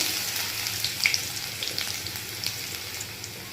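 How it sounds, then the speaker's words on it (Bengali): Whole cumin, fennel and ginger sizzle in hot oil, a steady soft crackle with faint pops, quiet and close, no voices. "এবার ওই তেলে একে একে দিয়ে দেব গোটা জিরে, মৌরি ফোড়ন,"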